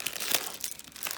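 Craft papers crinkle as their plastic packaging is opened by hand, a close, continuous rustling and crackling that lasts a little over a second with no talk.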